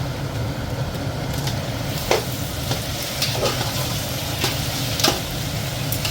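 Mutton sizzles in a pan with lightly browned onions, a steady frying hiss with occasional sharp stirring scrapes, fairly close and moderately loud, with no talking.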